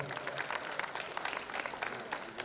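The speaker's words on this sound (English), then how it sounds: "Let's give her a round of applause." An audience at a school hospitality and tourism academy event gives a brief, dense round of clapping, fairly even and moderately loud throughout, with a faint murmur of crowd noise beneath.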